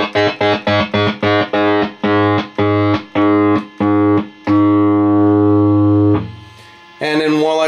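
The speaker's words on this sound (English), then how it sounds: "if you want that cutting in and out sound, roll your neck pickup volume right here off and move that toggle switch up and down" An electric guitar, played in an intro style, chops in and out as the neck pickup volume is rolled off and the toggle switch flicked, giving a rapid stuttering rhythm of loud bursts before a sustained chord rings out.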